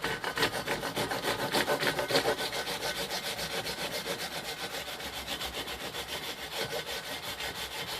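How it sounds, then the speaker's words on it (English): A hand saw rasps steadily back and forth through wood, its strokes fast and even, close by and continuous for the whole stretch with no voices. "I'm going to cut in from two sides, I think, and then that way I think I'll be able to snap it."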